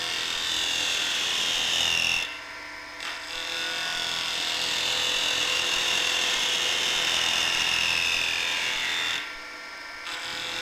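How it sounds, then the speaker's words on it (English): A Spindlemaster tool takes light cuts across the end grain of square wood stock, rounding over one end, giving a steady scraping rasp that runs continuously with two brief pauses, close and clear with no talk. "we use the tool to cut across end grain, taking a series of light cuts to round over one end of this square stock"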